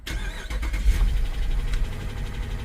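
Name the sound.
police vehicle engine starting up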